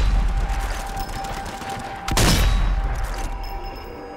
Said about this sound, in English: Thank God for the sniper rifle